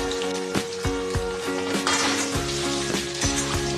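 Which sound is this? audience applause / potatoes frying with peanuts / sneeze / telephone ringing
potatoes frying with peanuts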